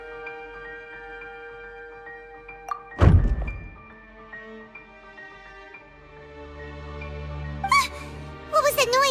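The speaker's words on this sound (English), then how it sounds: "I seem to have accidentally knocked over a decoration." A decoration knocked over in Genshin Impact, a single loud thunk about a third of the way in, over soft game music and ambience with brief chimes near the end.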